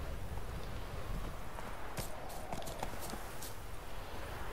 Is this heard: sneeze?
no